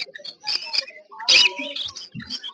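Pineapple red factor conures at the Uluberia pet market chirp and squawk in close, rapid bursts, with a louder screech in the middle and some talk mixed in.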